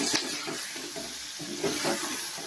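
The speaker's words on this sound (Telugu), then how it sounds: "నూనెలో వేపుకోవాలండి." Tomatoes frying in oil for a tomato chutney give a steady, close sizzle with soft stirring scrapes through the pan, no voices present.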